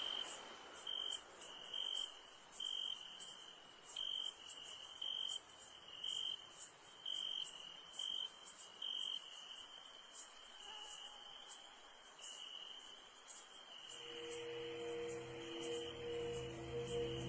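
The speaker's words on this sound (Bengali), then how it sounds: "ঝিঝি পোকা ডাকে কানে তালা" Crickets chirp at night in a rural village setting with a continuous high, pulsing trill, faint and distant, joined near the end by a lower steady insect or frog drone.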